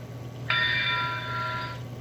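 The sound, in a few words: American Flyer digital sound train bell effect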